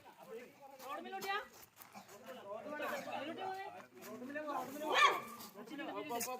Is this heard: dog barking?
yes